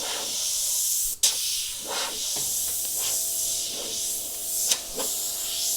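A suction-feed airbrush with a 0.3mm nozzle sprays paint in a steady close hiss, broken by brief trigger pulses and short bursts, with a faint mechanical hum underneath.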